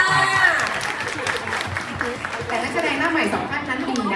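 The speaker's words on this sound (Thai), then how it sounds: "ปรบมือให้สะเทือนถึงเกาหลีเลยค่ะ" An audience at the Thai drama world premiere claps steadily and densely alongside crowd chatter and voices, a continuous moderately loud wash of applause throughout.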